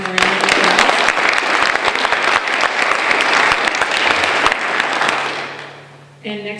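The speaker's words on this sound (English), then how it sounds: "so if we can give them a round of applause" Loud applause from an awards ceremony crowd honoring a recipient, dense steady clapping for about five seconds before fading, followed by a brief voice at the end.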